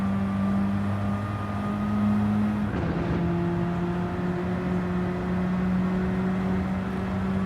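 Volkswagen Golf GTI engine in Gran Turismo 7 during a Nürburgring time trial: a steady, loud engine drone with a gear change partway through. No one talks.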